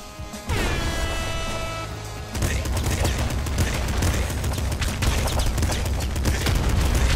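Rapid machine-gun fire in the video game Nuclear Throne: a dense, continuous burst of electronic gunshots with crashing impacts, loud and relentless after a brief tonal sweep at the start.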